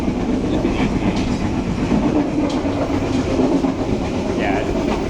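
Recorded aboard a luxury passenger train travelling from Jakarta to Yogyakarta, a loud, steady rumble with rhythmic clickety-clack of wheels over rail joints, and a faint voice now and then underneath.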